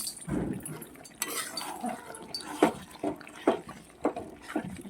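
Mutton with whole garlic cloves being stirred and fried in a pot, with spoon scrapes and clinks against the metal coming in a steady rhythm of close strokes over a soft background sizzle.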